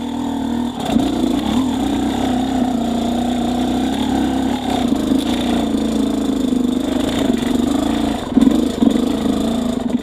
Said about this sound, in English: we'll test the engine's extreme low RPM torque performance